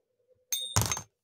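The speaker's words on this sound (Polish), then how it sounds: "O, moneta mi spadła" A metal coin, an Australian kangaroo piece, drops onto a hard surface: a bright ringing clink followed by a short rattling clatter as it settles, close and alone.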